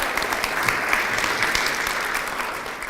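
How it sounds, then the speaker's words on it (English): An audience applauds steadily at the 2019 Central Ohio Senior Hall of Fame induction ceremony, a dense, even wash of clapping from a seated crowd that continues throughout. "I want to add my thanks to your applause for Colleen Marshall"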